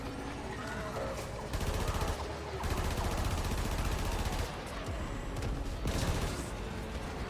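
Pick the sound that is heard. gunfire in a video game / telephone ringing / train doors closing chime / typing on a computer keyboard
gunfire in a video game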